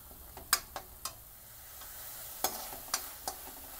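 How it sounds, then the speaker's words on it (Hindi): Masala roasting in oil for egg curry, a soft steady sizzle with a few sharp spoon taps and scrapes against the pan, close but quiet. "हमें मसाला को तब तक भूनना होता है जब से इससे ऑयल ना निकलने लगे"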